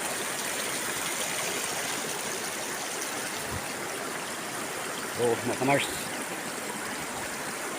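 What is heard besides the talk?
river water flowing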